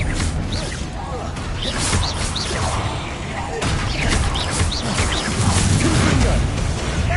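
An Expelliarmus spell is cast in the video game Hogwarts Legacy, amid dense, loud magical whooshes, crashes and impacts that run on without pause, with a voice shouting over the clamor.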